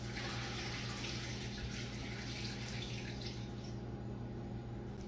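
Juices from a smoker pan are poured into a slow cooker for shredded pork, a steady close liquid stream running continuously and fairly quietly, with no talking.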